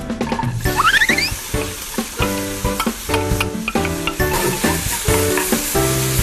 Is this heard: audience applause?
no